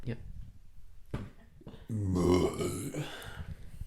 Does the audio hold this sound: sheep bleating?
no